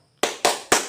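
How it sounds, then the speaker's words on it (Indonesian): Three sharp, evenly spaced group claps ring out close and loud in a rhythmic clapping routine for encouragement (tepuk semangat), each burst cutting off cleanly before the next. "tepuk semangat"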